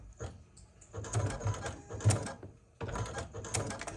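A Juki sewing machine stitching the sides onto an acorn quilt block, running in two bursts of steady mechanical whirring with a short pause between, moderately loud and close.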